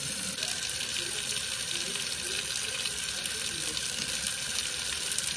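Hot water at 110 degrees pours steadily into a measuring cup for pizza dough, a continuous broadband rush lasting several seconds with no talk over it.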